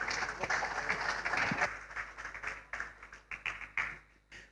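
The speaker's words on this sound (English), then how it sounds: "can we have a round of applause for him" Audience applause at a conference in Lagos, starting as dense clapping and thinning into scattered separate claps that fade out.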